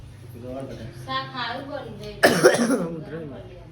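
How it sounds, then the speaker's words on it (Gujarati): Coughing from a person at home while a meal is being cooked, a sudden burst of harsh coughs following a stretch of talk, close and loud. "ઉધરસ થઈ ગઈ આપણને"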